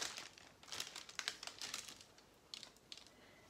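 Knife slicing through crisp homemade gluten-free crackers flavored with rosemary and olives, giving close, dry crackly snaps in quick irregular bursts, with no speech.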